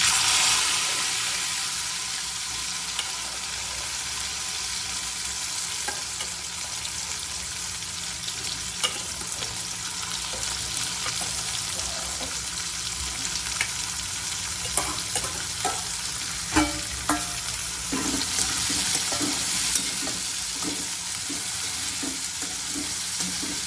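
Chickpeas fry in a pan with hing and green chillies, giving a steady sizzle. Intermittent scraping and clinking from a spoon stirring the pan come through, louder toward the end, with no talk.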